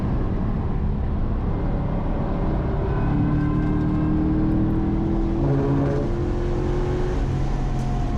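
A Ford Mustang GT track car accelerates at Laguna Seca Raceway, its engine tone sweeping upward under heavy broadband wind and road roar, loud and continuous throughout.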